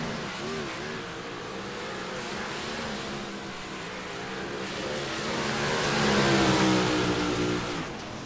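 Dirt track race cars roar down the straightaway at Williams Grove, a steady broad engine drone that swells louder toward the end as the pack passes close, with no talk over it.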